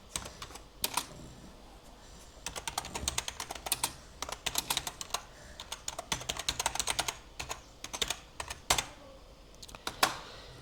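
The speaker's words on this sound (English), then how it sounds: "You come back here to this command prompt and type" Keys on a computer keyboard clatter as a command is entered at a command prompt, with irregular close clicks in quick runs and short pauses, fairly quiet.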